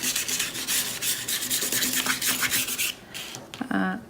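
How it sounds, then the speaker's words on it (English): A tool scrapes into the layered surface of a mixed media collage painting, making close, rapid back-and-forth rasping strokes for about three seconds, followed by a brief pause and a few shorter scrapes. "So we're going to be going back and forth, doing different things, scraping into it"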